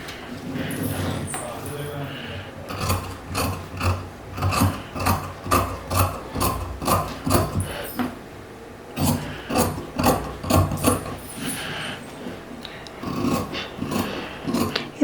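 Scissors cut through paper along a kurta sleeve pattern, a run of rapid rhythmic snipping strokes, close and fairly loud, with a short pause midway and speech around it.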